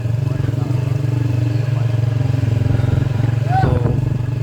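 A motorcycle that won't start, its engine sputtering and chugging in a steady loud low throb close by, with a brief rise near the end; people talk over it.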